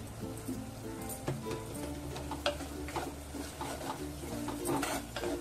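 Spice masala of garam masala and black chili powder being stirred in a pan, with a steady run of scraping and light metallic clinks of spoon on pan plus a faint sizzle, close and moderately loud, with no talk.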